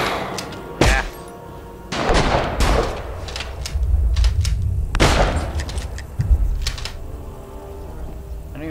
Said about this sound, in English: Oh, that guy's shooting at me.